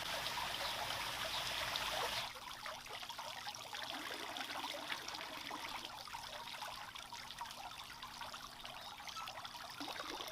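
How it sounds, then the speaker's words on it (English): Water trickles and spills over the rim of a garden fountain as it fills, a steady close splashing that shifts in tone after a couple of seconds and runs alone. "You guys see how the water is like overflowing here"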